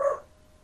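A single short dog bark sounds in the background behind a podcast recording, brief and moderately loud, then fading to quiet room noise.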